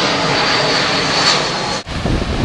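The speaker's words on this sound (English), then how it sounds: "There's a plane going right over us." A fixed-wing airplane passes overhead near a beach house among trees, a loud steady engine roar that fills the whole stretch, dipping briefly near the end before swelling again.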